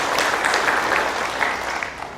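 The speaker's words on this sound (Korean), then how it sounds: "다시 한번 열정적으로 강의해 주신 우리 정성구 교수님께 큰 박수 부탁드리겠습니다." Sustained applause from a lecture audience at a regional development training session, thanking a professor after his talk; dense, even clapping at steady loudness throughout, with no voices over it.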